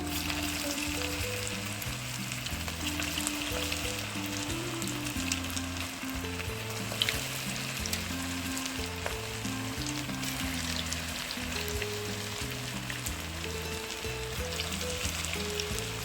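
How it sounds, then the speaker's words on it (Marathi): Veg manchurian balls deep-fry in hot oil with a steady, close sizzle and crackle, while light music plays underneath throughout. "म्हणून मी हे थोडेसे असे सोडते भजी तळल्याप्रमाणे"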